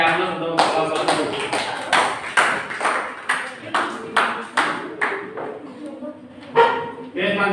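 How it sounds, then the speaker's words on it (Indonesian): A classroom group receives applause from students: a series of sharp, rhythmic claps in short bursts, fairly close and loud, with a brief pause before another round. "Kasih aplaus untuk kelompok dulu."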